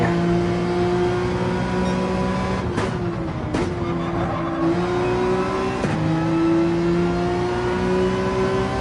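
Race car engine in Gran Turismo 7 at Fuji, droning steadily at high revs, dipping sharply twice on braking and gear changes before climbing again, loud and close with faint tire noise.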